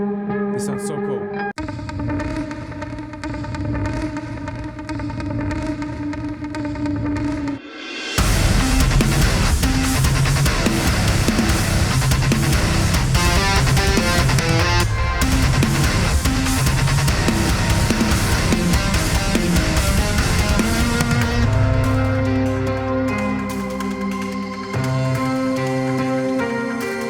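Effected trailer-style guitar from Keep Forest's Appex library builds from sustained, chorus-soaked tones into a loud, dense distorted section, then drops back to ringing echoing notes, all close and wordless.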